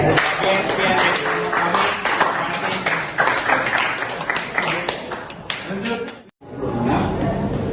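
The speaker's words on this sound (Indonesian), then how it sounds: "Aplaus buat kelompok yang maju." A classroom group gets applause after presenting in a teacher-training practice lesson, a dense wash of clapping that runs for several seconds and cuts off briefly near the end, with voices mixed underneath.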